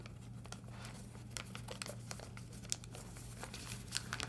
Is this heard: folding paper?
yes